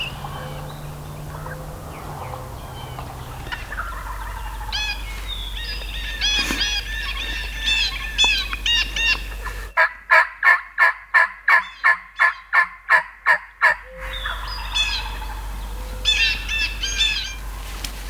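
Wild turkey toms gobble repeatedly during a spring hunt in Minnesota, with a loud rapid run of calls in the middle and more distant gobbles around it.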